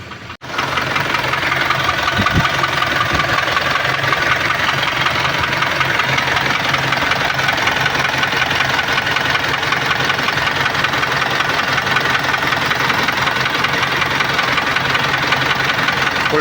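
Isuzu 4JJ1 diesel engine in an N-series truck runs at a steady idle with a knocking from a bad fuel injector, close up, loud and continuous with no talk.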